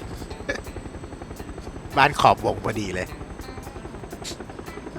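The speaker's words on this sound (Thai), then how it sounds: "ทำไมมันมีเครื่องบินอีกลำมาวะ แล้วทำไมมันบินเร็วกว่าเราวะ" In the PUBG video game, an airplane engine drones steadily throughout while someone speaks Thai briefly in the middle.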